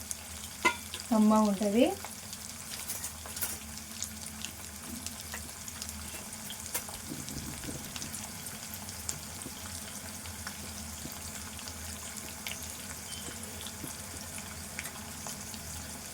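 Sliced onion frying in a pan for egg soup gives a steady, soft sizzle, broken by occasional scrapes and clinks of stirring, with a brief spoken phrase near the start.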